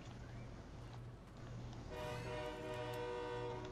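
Train ride in the video game Fortnite: a continuous rumbling rail roll with a horn-like tonal blast joining halfway through, steady and fairly loud.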